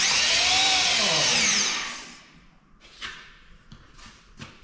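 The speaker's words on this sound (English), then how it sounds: "Like that drill bit's getting pretty much toast." A power drill with a worn, dull bit bores holes with a loud, high whine for about two seconds, then stops, followed by several scattered knocks and clunks.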